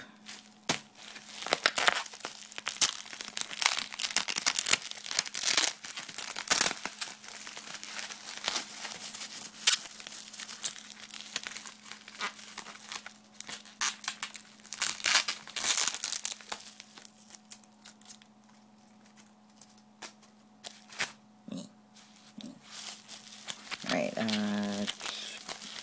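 Tape is handled with loud crinkling and crackling in irregular bursts up close, along with some tearing. A voice briefly chimes in near the end.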